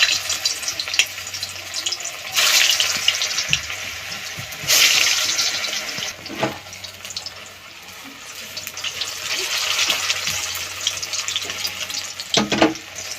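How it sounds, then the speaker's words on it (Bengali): Egg-stuffed jackfruit pieces frying in hot oil in a wok, a close hiss of bubbling oil that swells in bursts and eases off between them, with brief knocks and clatter. "এরকম উল্টে পাল্টে ভালো করে এগুলো একটু ভালো করে ভেজে নিতে হবে।"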